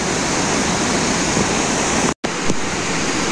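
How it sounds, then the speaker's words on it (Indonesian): Rushing water rises from a river deep at the bottom of a steep gorge beneath an old, disused railway line in Indonesia, a loud, steady broadband roar with a brief dropout near the end. "bawahnya itu sungai."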